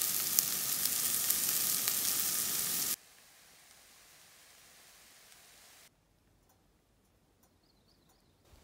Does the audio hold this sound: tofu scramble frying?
yes